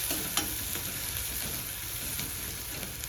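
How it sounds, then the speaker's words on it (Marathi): Green chilies, curry leaves and a pinch of turmeric sautéed in a pan for poha make a continuous close sizzle with a few light stirring scrapes and no voices. "कढीपत्त्याचे पान, थोडीशी हळद आणि त्याला चांगलं परतून घ्यायचं।"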